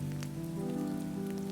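Steady rain falling on a surface, a close, even patter of drops with a soft low hum underneath, continuous and with no voices.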